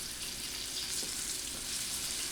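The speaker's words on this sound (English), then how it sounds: "We're gonna saute on medium to high heat." Sliced yellow and red bell peppers with onions saute on medium-high heat for a gravy, giving a soft, steady sizzle with a faint stir or tap partway through and no talking.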